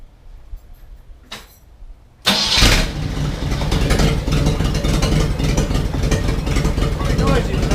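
A 1987 Jeep Wrangler YJ with its 4.2L engine and no exhaust fitted gives a brief crank, then fires and bursts into a loud, raw, rumbling idle that carries on unevenly to the end.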